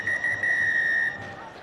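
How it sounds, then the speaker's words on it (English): A referee's final whistle at a Gallagher Premiership rugby match sounds as one long, shrill, sustained blast over faint crowd murmur before dropping away. "And that is the final whistle from Jack Makepeace."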